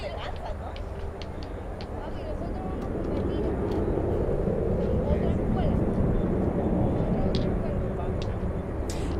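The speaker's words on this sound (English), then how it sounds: "on final approach, we have American 3044 flying in from Tampa" An American airliner on final approach at Miami International Airport during stormy weather, a broad engine roar that builds gradually and holds, heard from the ground at moderate distance with a voice talking over it.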